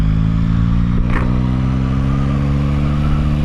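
A Yamaha XSR 900 motorcycle engine drones loud and close while riding at lower speed, a steady throbbing hum with strong low harmonics and a faint brief whoosh partway through.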